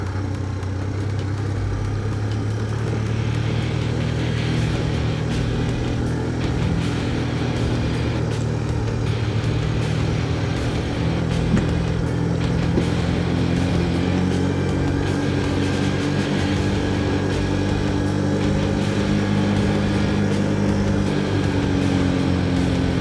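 A motorcycle in second gear on the steep, roughly 1-in-3 Wrynose Pass, with both front and back brakes in use; its engine drones loud and steady throughout, with no voices.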